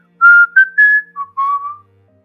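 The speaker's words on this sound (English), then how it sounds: "you start whistling the Transformers theme song" A person whistles a short melodic phrase from the Transformers theme song, several clear notes, loud and close, stepping down in pitch toward the end.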